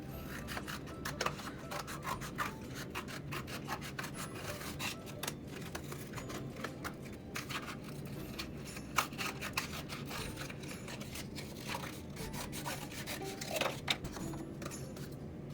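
Square tubing for a marble run being cut diagonally all the way through, giving a steady rasping, scraping rhythm of repeated strokes, fairly quiet and close, with no talking.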